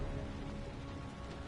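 Steady rain falls in a Heavy Rain video game scene, a soft, even hiss of drops on surfaces continuing without a break at low volume.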